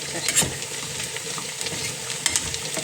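Final tempering for chicken sukka sizzling in a hot pan, a steady close frying hiss with light stirring scrapes and small pops throughout.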